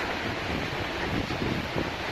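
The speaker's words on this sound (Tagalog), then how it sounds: "Medyo maalo ng dagat kayo, kaya nahihirapan tumabi." Rough sea surf washes and churns against a boat trying to pull alongside, a dense, continuous roar mixed with wind buffeting the microphone, with no voices.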